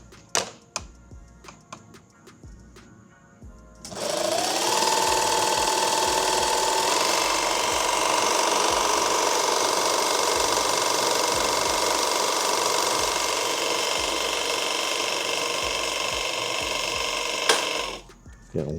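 A sewing machine stitches a six-magazine active shooter bag, running in one steady, loud, continuous burst for about thirteen seconds after a quiet start, with no talking.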